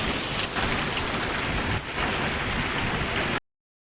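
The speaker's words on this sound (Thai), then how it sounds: "ช่วงนี้ฝน ตกหนัก อยู่" Heavy rain pours steadily, a dense continuous hiss of drops hammering a surface, with no voices, before cutting off abruptly.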